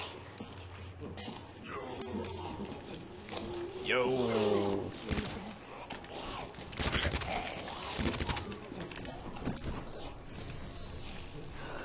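Submachine gun fire from a TMP in the video game Resident Evil 2 comes as a few short, sharp bursts in the second half, mixed with game sounds while a person talks.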